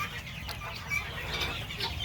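Chickens cluck softly in short bursts against a low background hum, several birds nearby, no talking.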